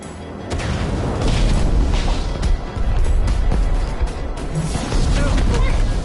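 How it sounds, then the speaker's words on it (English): Fireworks exploding in Minecraft: Story Mode, a dense, loud stretch of booming blasts and crackling bursts that fills the whole scene, with a short dip partway through. "Fireworks! Good thinking, Lucas!"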